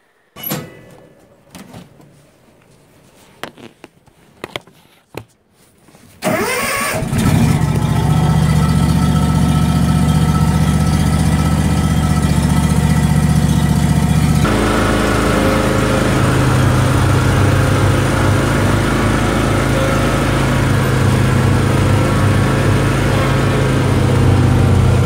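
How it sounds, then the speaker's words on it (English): A John Deere x310 snowblower during a blizzard with heavy, wet snow: after a few knocks and clunks the engine fires up and runs loud and steady, its tone shifting partway as the load changes, close by with no talk. "I think we're ready for a little bit of snow blowing anyway."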